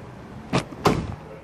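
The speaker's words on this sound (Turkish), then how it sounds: "Kapıyı açtığımız anda" A Nissan Navara pickup door opens with two short, close clicks of the latch and handle over quiet background noise.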